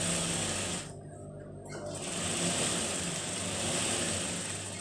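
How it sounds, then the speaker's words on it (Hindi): A sewing machine stitches fabric for a salwar mohri, its motor humming steadily and close by, with a brief pause of about a second before the run resumes. "यहाँ पर मैं एक सिलाई लगाता हूँ, एक बूट भर की जो मशीन का ये फुट है उसके बराबर सिलाई लगाता हूँ।"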